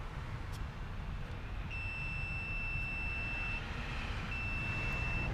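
Multimeter continuity tester beeping on a Nissan 300ZX throttle position sensor with the throttle fully closed, a thin high steady tone held for a couple of seconds, then again after a short gap, over a low background rumble.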